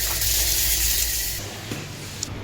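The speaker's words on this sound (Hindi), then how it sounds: "बहुत ज़ोरों से पानी आता है।" Bathing water gushes forcefully from a tap as a broad, loud rushing hiss that fills the first half, then eases to a softer flow with a few small knocks, and no one speaks.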